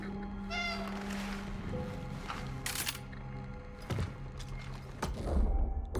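A cat meows several times in the Cronos: The New Dawn video game, clear close calls over a steady low game ambience with a few soft thumps.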